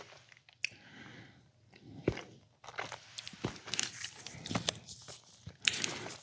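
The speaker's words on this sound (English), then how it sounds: "now we got the crunch" Halloween candy is crunched and chewed loudly and close up, with irregular crisp bites and wet mastication noises continuing throughout, without talk.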